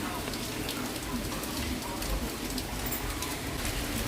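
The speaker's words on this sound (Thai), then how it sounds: "ฝนตก" Heavy morning rain in Perugia, Italy hisses densely and evenly from start to finish, with a few faint background sounds beneath the downpour.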